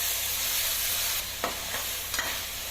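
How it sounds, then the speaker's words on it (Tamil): Chicken curry with masala and half a cup of curd being stirred in a pan, a steady soft sizzle with a few brief scraping strokes near the end. "இது கூட 1/2 கப் தயிர் அதையும் மிக்ஸ் பண்ணி நல்லா கிளறி விட்டுக்குங்க."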